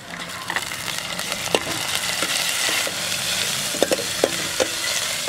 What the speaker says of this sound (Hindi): इसे अच्छी तरह से सौटे कर लेंगे।